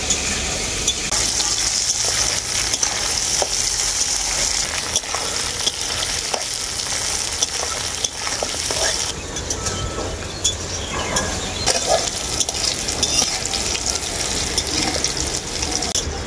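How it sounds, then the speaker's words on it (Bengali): Bitter gourd slices frying thoroughly in hot oil give a steady, dense sizzle that runs unbroken and fairly loud throughout, with occasional sharp crackles and stirring clatter. "উচ্ছেগুলোকে আমি খুব ভালো করে ভেজে নিয়েছি"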